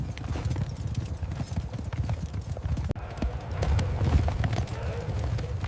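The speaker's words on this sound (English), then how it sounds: "The earth shook under the hooves of the charging war horses." Charging heavy war horses gallop in a dense, continuous pounding of hooves, loud and close, across a battle scene, with a narrating voice over the drumming.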